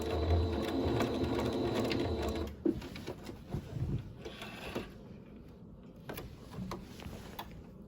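A sewing machine back stitches on a man's shirt, a steady close mechanical whir for about two seconds that stops abruptly, followed by faint handling clicks and soft rustling.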